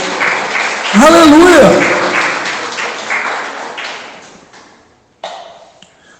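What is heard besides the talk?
church congregation applauding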